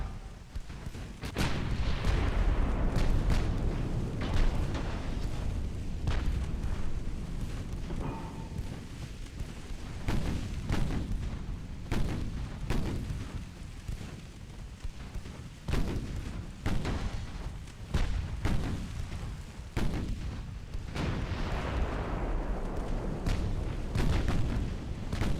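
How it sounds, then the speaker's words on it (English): Torpedo detonations and shellfire in a naval battle in the warship game Ultimate Admiral Dreadnoughts, a dense, continuous barrage of booming blasts and gunfire with repeated heavy bursts over a constant rumbling background. "Oh, torpedo detonation."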